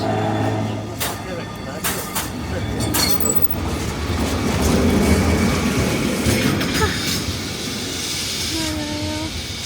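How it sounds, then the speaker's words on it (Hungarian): A Lisbon number 12 tram rumbles past with steady rolling noise and rail hiss, ending in a high wheel squeal; a voice speaks briefly underneath. "Jön a villamos."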